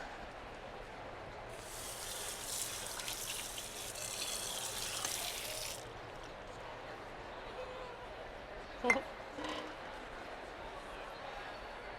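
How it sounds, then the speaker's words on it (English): A measuring cup rinsed under a running kitchen tap, a steady hiss of water for a few seconds, then quieter room sound with a brief clatter. "Let me just wash out one of my measuring cups."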